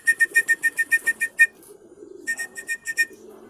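Racing pigeons arriving at a loft give rapid rhythmic bursts of repeated, whistling, cooing notes close by, a long run of about ten pulses, a short pause, then another run.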